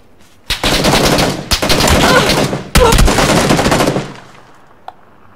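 Loud, close automatic gunfire in the battle-royale game PUBG: three sustained bursts of rapid shots separated by brief gaps, then fading to near silence with one faint late shot.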